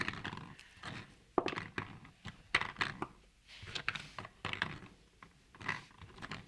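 Paintballs are pressed into a Planet Eclipse CF-20 twenty-round continuous-feed magazine, making a series of close, soft clicks and plastic clacks in an uneven rhythm, with quiet handling noise between them.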